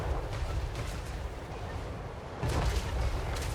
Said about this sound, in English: Cannons lighting up the Plague Toads of Nurgle.